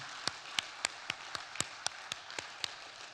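Scattered applause from a church congregation during a worship service, heard as about ten separate, sharp claps in an uneven rhythm. The claps are fairly faint and sit over quiet room tone, with no talking.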